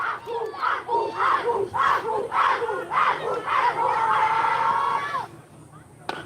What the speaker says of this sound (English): the Douglas team is cheering on their teammates